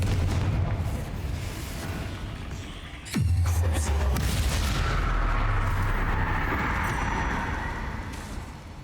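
A Confringo fire spell blasts in the Hogwarts Legacy game, giving a single heavy, booming explosion that hits loud and close, then fades into a long low rumble beneath steady ambient game noise.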